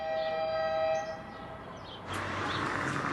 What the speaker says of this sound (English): That honk in the background is this little truck that's driving around with propane tanks in the back